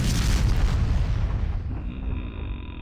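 A missile launched and exploding in the Fallout Tactics video game, a heavy booming blast that rolls out and decays into a fading rumble over a few seconds.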